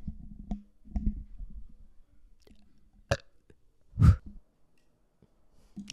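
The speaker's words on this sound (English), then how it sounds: "I'm gonna burp again." A single loud, low burp from a person, close to the microphone, preceded by a few faint clicks and breaths in an otherwise quiet room.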